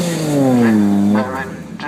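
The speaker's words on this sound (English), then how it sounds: "this is one of the noisiest cars at the event" A Vauxhall Firenza (Chevrolet) race car at a Donington historic car show, its engine note falling in pitch as it passes, loud and close, then dropping away, while someone talks.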